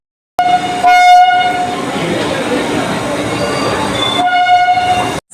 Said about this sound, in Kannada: ಇಲ್ಲಿ ಮೆಟ್ರೋ ಟ್ರೈನ್ ಬಂತು ನೋಡಿ